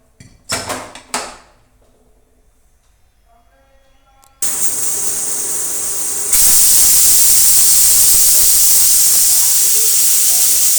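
A few sharp clatters and a faint ringing give way to a loud, steady pressure cooker steam whistle that jumps even louder and shriller partway through, continuing without pause.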